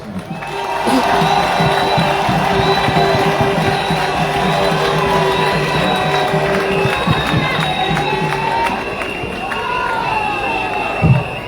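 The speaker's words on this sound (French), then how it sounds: "Applaudissements encore très fort pour Dr Boussamba Augustin, s'il vous plaît." A crowd at a political meeting in Mouila, Gabon, cheers and applauds steadily throughout, with an amplified voice and shouts over the continuous roar.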